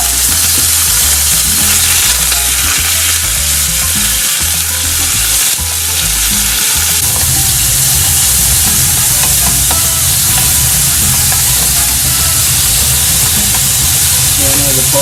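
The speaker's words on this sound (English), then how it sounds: "And heat the pork with high heat." Pork sizzles loudly in a hot pan over high heat, a dense continuous crackling hiss that holds steady throughout with occasional stirring scrapes.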